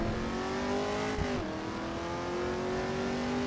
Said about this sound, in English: This car sounds so much understated.